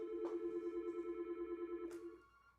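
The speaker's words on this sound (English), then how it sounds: "Bad timing for the phone call." A telephone rings with an incoming call during a MacBook Pro display repair session, a steady warbling electronic ring pulsing for about two seconds before cutting off, close and clear with no talk.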